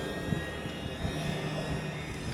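A DJI Avata FPV drone in forward flight makes a steady, dense whirring buzz of small propellers with a faint high motor whine, continuous and fairly loud, with no talk.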